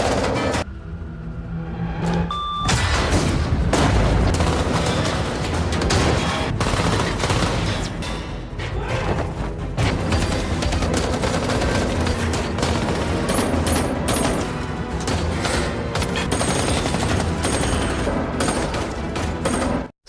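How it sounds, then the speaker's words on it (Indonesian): A film gunfight erupts inside a building where a bomb team has entered: sustained loud fusillades of automatic and single gunshots with mechanical clatter, continuous for about twenty seconds with a brief quieter start. "Dan terjadilah baku tembak di antara mereka."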